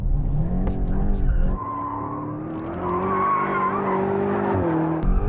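A BMW M car in two-wheel drive mode skids with sustained tire squeal and a loud engine drone, continuous and close throughout, with a brief lull partway.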